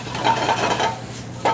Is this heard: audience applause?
no